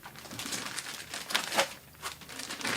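Close, soft crinkling of an oversized plastic bag and foam packaging while unboxing a Rotel CD11 Tribute CD player, irregular rustles and crackles with a few louder crumples, quiet overall.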